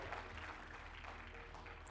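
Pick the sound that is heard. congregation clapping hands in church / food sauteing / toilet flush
congregation clapping hands in church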